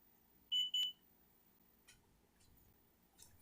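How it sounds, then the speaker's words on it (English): A driveway alarm gives two short, clear electronic beeps in quick succession in a quiet room, followed by faint scattered background clicks. "I'll turn the driveway alarm off so it won't be beeping the whole time we're doing the"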